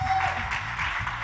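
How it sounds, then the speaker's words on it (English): A workshop audience claps briefly, a short burst of moderate applause heard close and dense for just over a second. "Clap for that."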